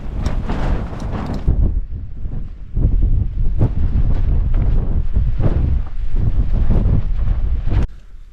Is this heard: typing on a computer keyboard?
no